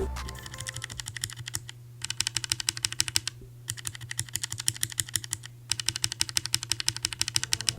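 Rapid, steady clacking of Glorious Holy Panda mechanical keyboard switches being typed on, in several bursts separated by brief pauses, close and crisp.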